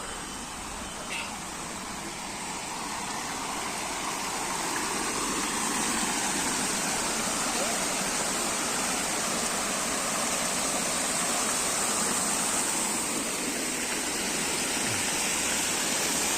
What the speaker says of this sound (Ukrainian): давайте підемо, подивимось, як тут фонтанчик грає свою музику водою